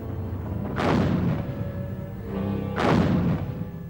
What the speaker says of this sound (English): Field guns like this French 75, the German 77mm, the British 18-pounder